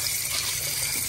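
Tilapia fish being rinsed under a running kitchen tap, a steady continuous splash and gush of water into a sink, close and even throughout with no talking.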